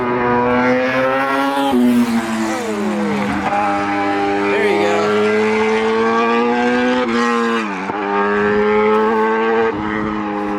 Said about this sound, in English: motorcycle's gonna pass.